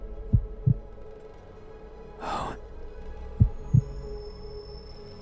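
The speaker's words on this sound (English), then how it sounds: "Can you hear it? The heartbeat?" Heartbeat in a horror video game, two paired thumps, then a pause, then another pair, with a breathy swell between them and a single short gasping voice.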